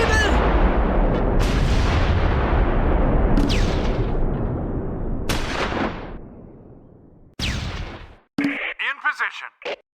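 A Puma armored car is destroyed in the Close Combat 4 Battle of the Bulge game, set at Weiler, December 1944: a sustained heavy blast rumbles and decays, punctuated by sharp booms, followed by short bursts of speech.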